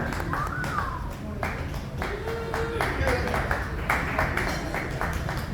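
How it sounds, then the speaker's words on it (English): Clapping from a live comedy club crowd greeting a comedian on stage, a rhythmic run of claps running under loud talk and background crowd noise. "let's give a round of applause"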